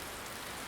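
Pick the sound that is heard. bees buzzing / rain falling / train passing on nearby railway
rain falling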